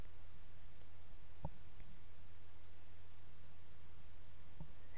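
Two sharp, isolated mouse clicks while publishing a web page, separated by about three seconds over a low steady hum in a quiet room.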